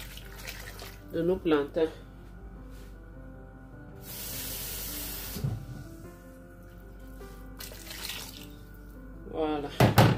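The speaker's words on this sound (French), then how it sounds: "Bon, je rajoute de l'eau chaude." Hot water poured into a cooking pot for Cameroonian beef kondrès, a steady hissing rush lasting a couple of seconds, with a person speaking French before and after it.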